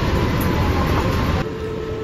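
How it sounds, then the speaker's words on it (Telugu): Driverless Disney-themed train at Tokyo Disneyland, a steady loud rumble of wheels and car body close by with a faint high whine, continuous for the whole two seconds and dropping slightly near the end, no talk. "It's a Disney theme train."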